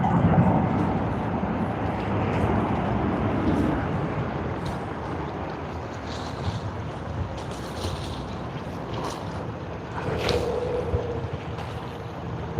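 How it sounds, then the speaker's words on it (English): Scoot Airlines Boeing 787-9 Dreamliner arriving from Singapore at Sydney Airport, a broad steady jet rumble with wind noise that holds throughout and swells slightly near the end. "we now have a very bright livery plane coming in. The Boeing 787-9 Dreamliner from Scoot Airlines"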